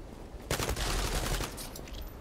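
A burst of rapid gunfire from the online shooter game Zula erupts suddenly and holds as a dense, continuous volley of shots, fairly loud with no talk over it.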